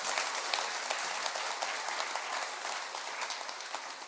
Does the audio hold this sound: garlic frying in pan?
no